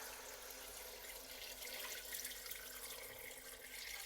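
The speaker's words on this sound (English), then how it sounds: "So I took a big bowl and we're just going to add water on top" Water pours steadily from a big bowl into a cooking pot, a continuous soft splashing rush lasting several seconds at moderate distance, with no talking.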